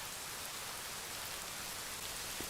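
Heavy rain in the video game Rising World, a steady, dense hiss of downpour filling the whole stretch with no let-up and no voices.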